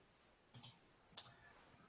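Two quiet, sharp computer mouse clicks about half a second apart, the first a quick double, during an online water division presentation with a quiet room behind them.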